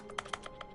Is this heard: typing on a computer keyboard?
yes